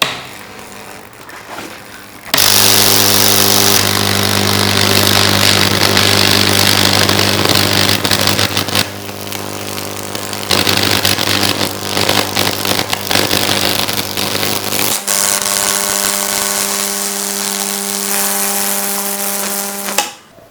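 High-voltage fractal wood burning machine switching on with a loud, steady electrical hum and buzz for about eighteen seconds, crackling and sizzling as current arcs across the wood, with a brief dip midway and no talk.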